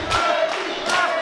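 A wrestling crowd at a CCW Chaos event roars and chants for Davey Vega in two loud swells, with voices shouting through the noise.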